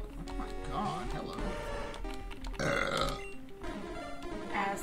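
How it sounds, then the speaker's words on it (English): A loud, gurgling burp erupts amid busy game sounds and background music during a Pokémon Red and Blue playthrough, swelling briefly in the middle before the other noises carry on. "Oh, burp."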